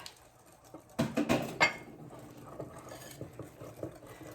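A rice pudding mixture is whisked in a pot, with a brief burst of quick metallic clinks and scraping near the start, followed by softer, intermittent stirring taps that fade to a quiet background.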